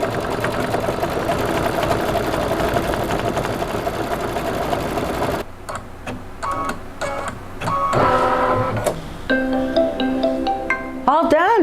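A sewing machine steadily stitches dark gray whiskers onto a cat appliqué block for a Halloween placemat, a continuous whir that gives way to softer clicks, rustles and thread-trimming noises, with a voice speaking briefly.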